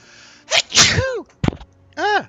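A loud close sneeze with a sharp burst of air, followed by a short vocal sound and then a second voiced exclamation, recorded close to the microphone.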